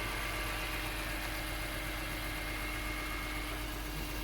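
A BMW E46 M3 with SMG gearbox idles steadily nearby, a constant even engine hum with no revving and no talking.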